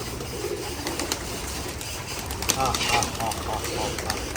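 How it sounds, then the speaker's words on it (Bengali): Soft coos from Giribaj pigeons rise from a steady, noisy background, with occasional faint voices and bird movement nearby. "এখানে কবুতর খাওয়াবে"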